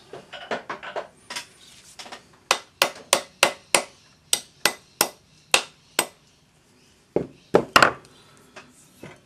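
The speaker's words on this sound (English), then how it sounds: "And when I hammer the bail" A hammer strikes the bail of a coin ring pendant on a ring stick, with a long run of sharp, ringing metallic taps, close and loud and mostly evenly paced, broken by a short pause before a final few blows.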